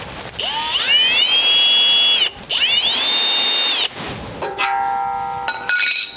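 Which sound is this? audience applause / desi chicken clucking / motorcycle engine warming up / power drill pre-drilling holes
power drill pre-drilling holes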